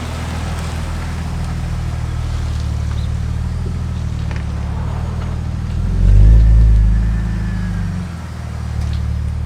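A BMW E46 with a Rogue DMS exhaust and stock headers idles with a steady low rumble, then blips the throttle once in a short rev around the middle before settling back to idle.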